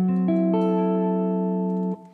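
A minor 7 flat 5 chord voiced on guitar, its notes entering one after another in a quick roll and then ringing together cleanly before cutting off.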